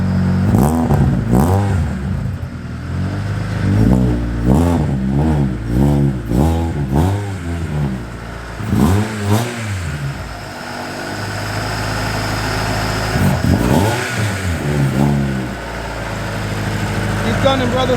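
A car engine revs hard in repeated bursts as it pulls away, loud and close, then fades and surges again; people talk over the engine noise.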